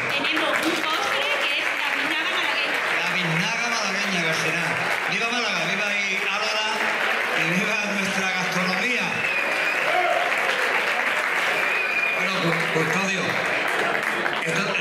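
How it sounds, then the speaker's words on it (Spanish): Loud, continuous applause from a large crowd at a cooking and pastry competition awards night, steady clapping that carries on throughout with voices mixed underneath. "Un aplauso."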